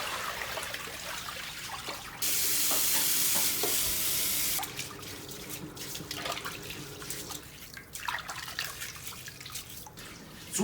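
A pig's head is rinsed under running water at a kitchen sink: a strong gush from the tap for a couple of seconds, surrounded by close splashing, dripping and handling sounds.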